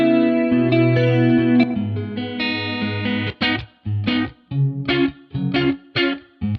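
Electric guitar through a clean amp with a fast, deep chorus effect for a twangy pop tone, sustained chords at first giving way to short choppy strummed stabs, close and alone.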